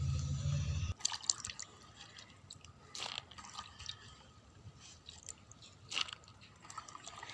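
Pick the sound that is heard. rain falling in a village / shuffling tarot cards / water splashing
water splashing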